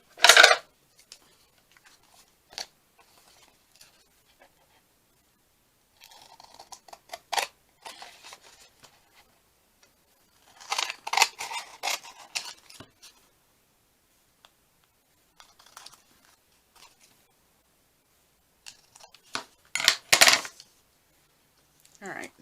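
Scissors snip through a paper craft tag in short, scattered bursts of crisp cutting with quiet pauses between, close and fairly soft.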